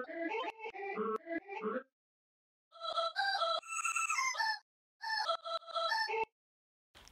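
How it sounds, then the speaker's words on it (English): A heavily processed vocal sample chopped in an Ableton sampler plays in bursts of bright, pitched, warbling syllables, separated by short gaps of silence, fairly quiet and with no other sounds around it. "after playing around with the vocal sample a bit"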